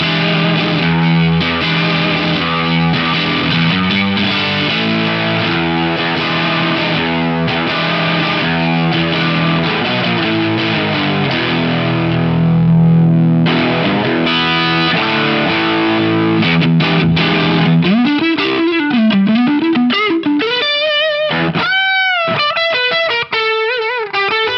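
Electric guitar through a BOSS Waza Craft distortion pedal in Waza mode with the treble turned up, a thick, dark, saturated drive playing sustained chords that loosen into bending single-note lines, loud and alone.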